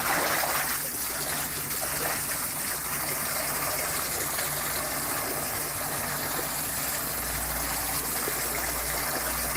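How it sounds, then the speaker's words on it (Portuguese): Dirty water draining out through sieves as construction sand is washed, a steady broad gushing and trickling wash over a low pump-like hum, with no voices. "Perceba que a água está saindo, está muito suja ainda"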